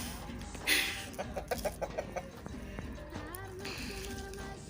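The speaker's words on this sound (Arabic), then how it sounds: "ها هو الدجاج فين كيطلع لينا" Chickens and a rooster cluck outdoors in the Moroccan countryside near Agadir, a quick run of rhythmic clucks at moderate distance over steady background noise, with faint talk nearby.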